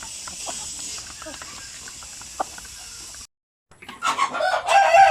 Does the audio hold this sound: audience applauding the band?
no